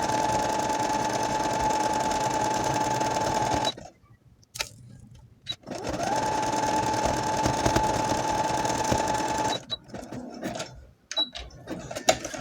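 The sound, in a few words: sewing machine stitching elastic on high-waist panties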